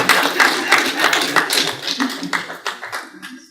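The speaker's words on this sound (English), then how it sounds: "Thank you for your applause." A small group at a political party conference claps in uneven, distinct slaps, fairly close, with talking voices mixed in as the clapping thins out toward the end.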